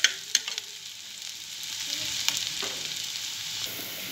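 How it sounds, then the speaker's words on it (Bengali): Sliced onions fry in hot oil for biryani, a steady close hissing sizzle that runs throughout, with a few sharp clinks near the start. "আর এদিকে আমার পেঁয়াজ ভাজা চলছে মোটামুটি"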